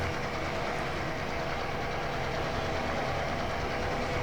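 A long freight train hauled by SD40 diesel units in the Trainz railway simulator, a continuous dense rumble and wheel roar with steady loudness throughout, no talking.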